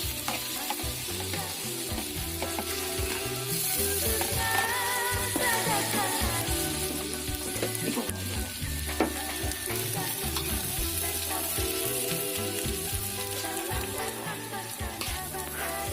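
Mie habang noodles frying in a pan with fragrant spices in a Banjar home kitchen, a steady loud sizzle with stirring scrapes throughout.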